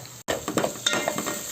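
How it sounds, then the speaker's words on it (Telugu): Onion and green chilli frying in oil give a steady close sizzle with soft stirring scrapes and faint clinks of a utensil against the pan. "ఉల్లిగడ్డ, పచ్చిమిర్చి నూనెలో వేయించుకోవాలి"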